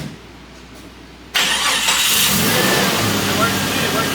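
A Jeep Cherokee engine cranks on its starter and catches, jumping abruptly from a quiet shop hum to a loud, steady running roar, heard up close.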